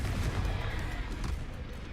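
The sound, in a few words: Confringo blast spell in Hogwarts Legacy video game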